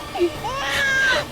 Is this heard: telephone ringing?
no